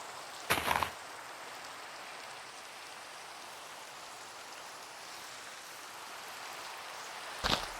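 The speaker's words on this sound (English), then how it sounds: "And it's raining. Of course it is." Steady rain falls in a modded Minecraft world, a continuous even hiss of drops that runs through the whole stretch, broken by two short louder bursts near the start and end.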